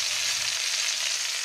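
Steak searing in a preheated frying pan, a steady dense hiss and crackle of sizzling fat, loud and close, continuous without breaks and with no voices.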